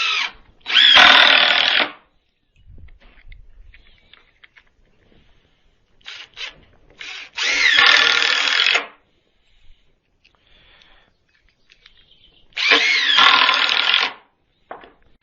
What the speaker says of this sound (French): Donc je commence par visser celle que j'ai positionnée.